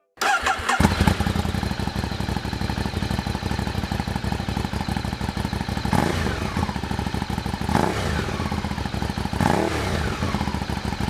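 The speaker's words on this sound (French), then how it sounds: "quand on démarre une moto européenne, spécialement une italienne" An Aprilia RSV4, an Italian superbike, fires up after a brief silence, and its engine settles into a loud, busy idle with a dense mechanical clatter. Several sharp throttle blips stand out near the end, with no voices over the engine.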